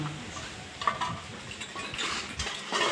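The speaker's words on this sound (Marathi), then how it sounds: "इकडे बायको व भाची भांडी धुत आहेत" Dishes and utensils clink and clatter irregularly nearby as they are washed at a village home, with soft scraping between the knocks and no voices.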